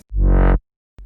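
A single reversed bass note swells from nothing to a loud, bright peak and stops abruptly, followed by silence.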